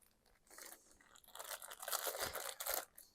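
Someone chews a bite of meat-filled pie, a close, soft crunching and smacking that swells and fades across a few seconds with no talk.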